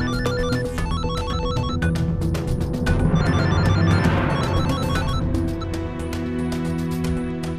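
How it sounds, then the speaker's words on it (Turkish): A telephone rings repeatedly in a bright electronic pattern, loud and close, with faint background clatter partway through. "Sana söylüyorum, telefonun çalıyor, duymuyor musun?"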